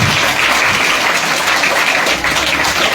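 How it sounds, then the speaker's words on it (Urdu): Loud, vigorous clapping from a crowd at a religious gathering celebrating Quran reading completion, continuous and dense for the whole stretch with no speech on top. "اسی طرح جلسے کی کامیابی کے لیے بجائیے زوردار تالیاں"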